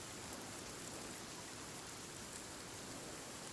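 Steady rain pours down in the forest of the survival game Sons of the Forest, a dense, even wash of drops close around the listener with no voices.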